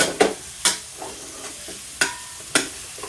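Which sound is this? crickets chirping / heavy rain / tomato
tomato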